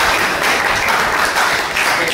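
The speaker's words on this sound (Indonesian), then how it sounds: "Tepuk tangan dulu." A classroom of students applauds together, producing dense, steady clapping that stays loud and close from start to end.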